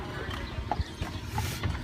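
Horse hooves clip-clop at a steady walking pace as the animal pulls an Amish buggy through Amish Country, with a voice talking over the hoofbeats.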